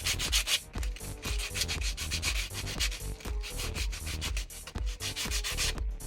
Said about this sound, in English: kind of buff them up, sand them up